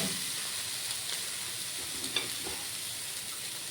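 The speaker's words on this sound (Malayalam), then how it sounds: "ഇനി ഇത് നന്നായിട്ട് ഇളക്കിയെടുക്കാം." Idli upma being stirred in a pan: a steady soft sizzle and hiss of frying food with faint scraping stirs, close and continuous throughout.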